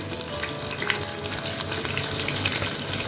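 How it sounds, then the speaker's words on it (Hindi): Two medium onions sizzle steadily in a pan of roasted spices for dal palak, a continuous close, dense frying hiss with faint crackles and stirring throughout, no voices. "अब मैं इसमें ये जो 2 मीडियम साइज़ के प्याज थे वो मैं इनमें डाल दूँगी"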